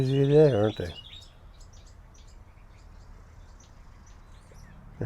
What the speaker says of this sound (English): Birds are noisy today, aren't they?